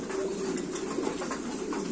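Gaditano pigeons coo softly and repeatedly at close range, a low rolling murmur over faint room background.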